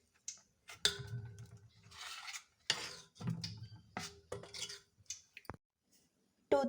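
Wheat flour dough with crushed cardamom being mixed by hand in a metal bowl for sweet jaggery-milk puris, with close, irregular clinks, knocks and soft squishing, quiet between strokes.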